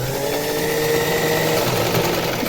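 A sewing machine runs continuously, stitching a blouse sleeve with a steady, close, whirring hum and no pauses.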